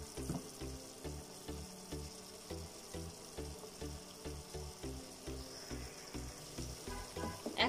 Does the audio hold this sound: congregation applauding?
no